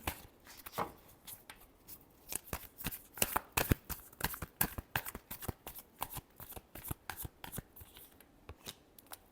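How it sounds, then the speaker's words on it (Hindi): Tarot cards being shuffled close by, a dense run of crisp, rapid riffling snaps and slaps in uneven bursts with no pauses, heard alone without talk. "ये लास्ट शफल"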